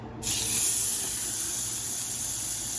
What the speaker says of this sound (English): We've got some sizzle down there.